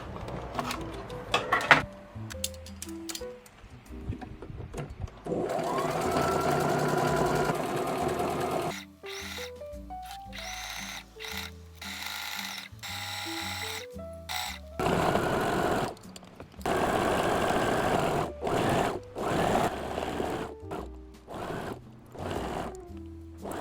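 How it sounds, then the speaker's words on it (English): Home sewing machine running a stretch or zigzag stitch around a cotton T-shirt, loud close bursts of rapid mechanical whirring that start and stop repeatedly, with short pauses between runs. "I'm going to take this to my machine, again using a stretch stitch or a zigzag stitch. I'm going to sew all the way around."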